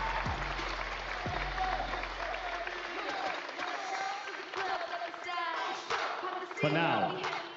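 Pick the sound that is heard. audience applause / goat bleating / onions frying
audience applause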